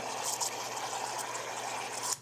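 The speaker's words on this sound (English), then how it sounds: "Add a little soda water." Soda water pours into a Collins glass over ice and rum daiquiri, a steady close fizzing, hissing stream that runs evenly throughout at moderate volume.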